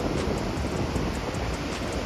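Steady, loud rush of ocean surf rolling in at an open beach where people surf, a continuous broadband wash with no speech heard.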